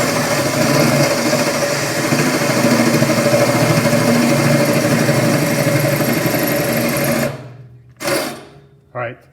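A power drill whines steadily as it bores through the metal body of a gas grill, a loud continuous motor drone lasting about seven seconds before stopping, followed by a couple of short bursts.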